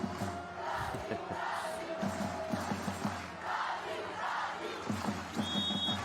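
Brasilia fans in the stands at a beach volleyball quarter-final in Brazil raise a sustained roar of cheering and chanting, with rhythmic shouts and claps pulsing through the crowd noise.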